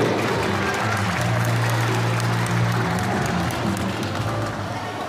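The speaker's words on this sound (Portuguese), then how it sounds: "Vamos aplaudir a nossa vice-prefeita Dalcine Lene." An audience claps continuously at a municipal Women's Day celebration in São Sebastião do Umbuzeiro, a dense, even wash of applause from a crowd filling the room, with a voice faintly audible beneath it.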